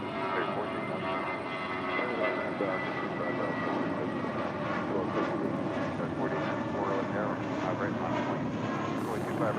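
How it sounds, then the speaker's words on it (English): A Volaris Airbus A320 airliner taxiing on taxiway Kilo at LAX produces a steady, even engine drone with a textured hum throughout, holding a constant moderate level with no clear peaks. "They're on taxiway Kilo. It's an A320."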